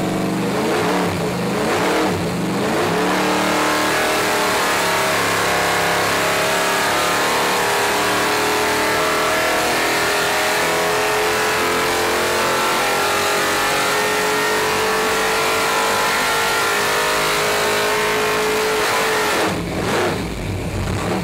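An engine on a dyno, fitted with Autolite 134 spark plugs, runs a full pull: a loud, steady roar climbing smoothly in pitch for about fifteen seconds before dropping off sharply near the end, with no talking.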